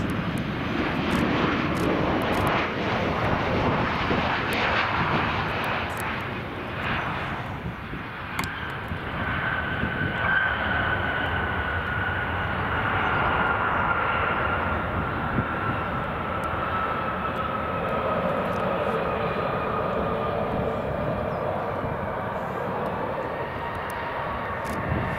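A Turkish Airlines airliner passes at Brussels Airport, its engines a loud, steady roar that holds strongly throughout with a slow swell and fade, heard alone without talk.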